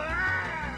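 A single short cat meow, loud and close, from the Ice Scream 3 horror video game mod.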